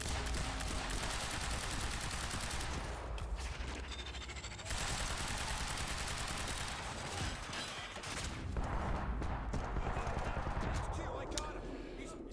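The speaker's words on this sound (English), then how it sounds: "Probably use my assault rifle." Assault rifle fire in the action game Quantum Break, loud and dense bursts of shots mixed with game effects throughout, with a voice talking over it.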